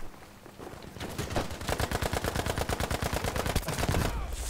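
Rapid automatic gunfire from a gun in the video game Battlefield V: a steady, close, loud stream of shots that runs for about three seconds after a brief quieter lead-in.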